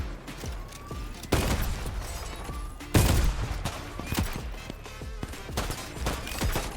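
Iron Man's weapon firing in the Roblox video game: bursts of rapid gunfire-like shots with two heavier blasts, dense and continuous throughout, no talking.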